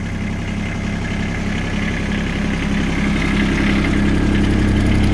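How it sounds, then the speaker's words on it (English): A 2009 Kubota RTV900W diesel side-by-side idles steadily, its rough low drone continuous, close and loud throughout, with no talk. "Starts like that every single time without issue. Just fires right up."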